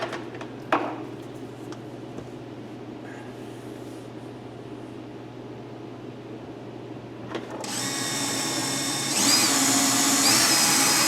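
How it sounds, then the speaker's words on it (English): After a quiet stretch with a few clicks, a power drill spins up and runs loudly for several seconds, pre-drilling into hardwood, its pitch climbing as it bores. "That is hardwood, that's why I'm pre-drilling."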